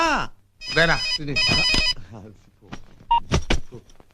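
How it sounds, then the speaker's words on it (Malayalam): A mobile phone rings in a short, bright tonal burst amid lively close conversation between people indoors. "എടാ, എന്റെ ഫോൺ പോയടാ. ബെല്ലടിക്കണുണ്ട്."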